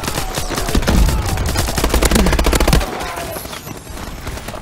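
Rapid, loud shotgun fire in a video game shooter, a continuous dense stream of close shots for about three seconds before it drops to quieter scattered game noise.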